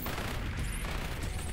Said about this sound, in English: I put a sentry gun here, right?